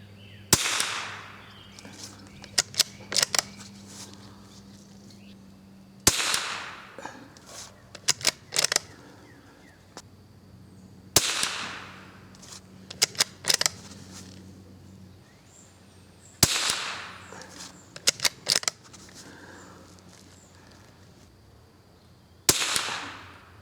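Five sharp rifle reports fired at a 50-yard target outdoors during a squirrel hunt, spaced about five seconds apart, each trailed by a brief echo with faint clicks and handling noises between shots.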